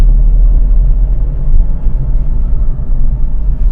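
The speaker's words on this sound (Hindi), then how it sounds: "ये देखिए फिर से डाउन शिफ्टिंग करके दिखाता हूं आपको मैं। गाड़ी तीसरे गियर में है" Car engine running steadily while driving in third gear during a downshift, a loud, continuous low rumble close to the listener with no clear rev changes.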